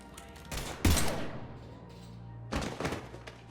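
Gunfire in the Mass Effect 3 video game, with two heavy bursts of shots and thuds separated by a short lull, loud and close against a low background hum.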